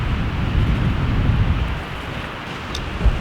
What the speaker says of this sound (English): Midwest wind, man.